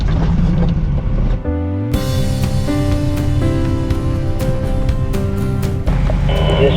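A two-wheel drive vehicle drives a forest trail in the Mark Twain National Forest, its engine a steady, loud drone with tonal whine and rattling bumps throughout, rising after a brief dip.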